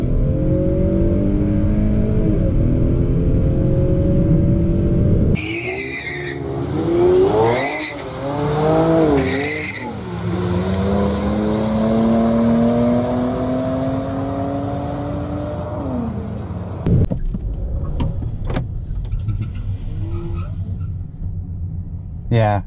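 Hard acceleration at a track day, with rising engine notes climbing through gears alongside squealing tires and a loud rumbling pass, heard up close; a voice talks over parts of it.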